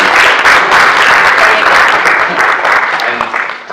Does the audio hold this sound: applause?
yes